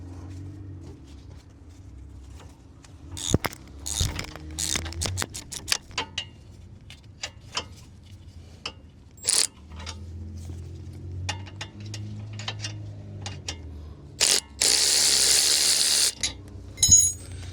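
Bolts on the lower control arm of a 2016 Nissan Versa are worked loose with hand tools, scattered metallic ticks, clanks and ratcheting bursts with pauses between, close up and without talk.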